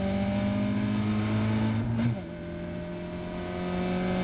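A Caterham race car pulls hard off the start line at Silverstone, its engine droning loudly with a steady pitch that climbs, then breaks briefly at a gear change and resumes.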